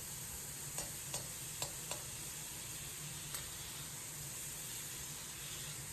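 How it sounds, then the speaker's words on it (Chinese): Diced pork belly stir-fries in a wok to render its fat, giving a steady, faint sizzling hiss with a few soft scraping clicks from the spatula in the first seconds. "先把五花肉的油炒出来，这样肉吃了就不腻。"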